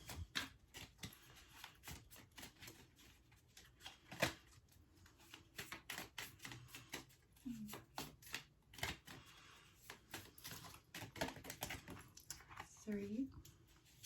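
Tarot cards being shuffled and laid out, soft irregular riffling and flicking sounds that are quiet and close, with a voice speaking between them.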